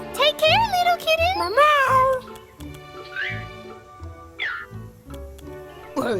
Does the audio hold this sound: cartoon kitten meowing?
yes